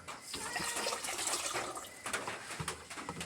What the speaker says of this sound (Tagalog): Atong butngan tubig mga kabisdak kay atong kislan mga kabisdak.